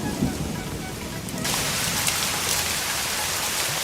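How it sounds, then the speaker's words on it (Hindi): Steady rain hisses loudly at night, growing denser partway through into a heavy, even downpour with no voices. "बारिश में तो रात को और मजा आता है"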